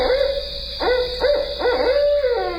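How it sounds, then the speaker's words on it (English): A barred owl hoots in a steady series of loud, close calls, each note sliding up and falling away, over a constant background hiss. "The barred owl."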